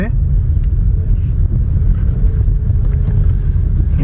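A Renault Duster with a 1.3 turbo petrol engine and manual gearbox climbs uphill in second gear, producing a steady, loud low engine rumble that stays constant as the car pulls without a gear change, with someone talking over it.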